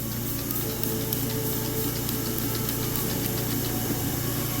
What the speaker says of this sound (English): So I'm going to spray a little bit more on here.